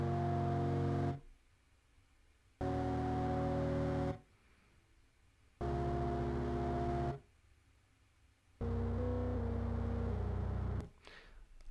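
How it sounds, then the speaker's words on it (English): A very low, distorted sine-wave synth tone from a heavy song, played in four sustained bursts of about a second and a half, each separated by near silence, with no voices. "distorted sine wave synth noise."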